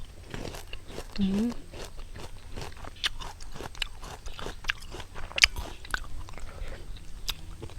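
Pickled mixed fruit being bitten and chewed close up, giving repeated crisp crunches and wet chewing, with a voice murmuring briefly and a relaxed outdoor setting in a rubber plantation.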